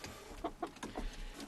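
Hens in a backyard chicken pen with nest boxes and roosts give a short series of soft, separate clucks, about four in quick succession, close by over a faint room hum.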